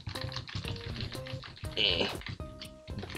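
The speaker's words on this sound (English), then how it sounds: "You're gonna hear my keyboard." Rapid computer keyboard clicks tap away while playing The Escapists, under a bed of tonal electronic music, with brief bursts of louder activity partway through.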